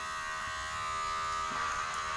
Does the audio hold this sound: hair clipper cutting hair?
yes